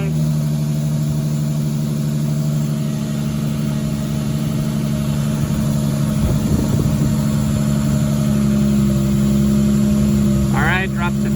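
Nissan 350Z engine idling during an oil pressure test, a steady loud low hum held throughout with a brief faint rustle and a short chirp near the end.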